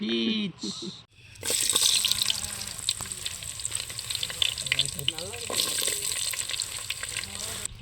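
Onions sautéing in a pan over a village cooking fire, a continuous close sizzle with stirring scrapes, with brief voices at the start.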